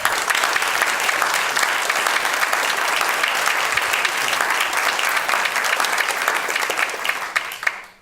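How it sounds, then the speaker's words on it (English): Audience applause after a talk on fixing the U.S. education system, steady dense clapping from a crowd lasting about eight seconds before fading out at the end. "I'd like to applaud the kids who are in the back."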